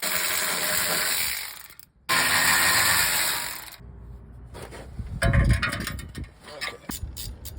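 Ratchet working loose the remaining frame-to-cross-member bolts on a 1988 Toyota pickup with a 22RE engine, a run of dense mechanical clicking broken by a brief pause, then clanks and knocks as the work continues.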